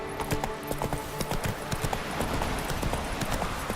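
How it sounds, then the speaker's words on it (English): Horse hooves clip-clop at a galloping pace in The Witcher 3, a steady run of close, rhythmic hoofbeats over a background of game ambience with no speech. "Run, Roach."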